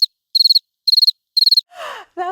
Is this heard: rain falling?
no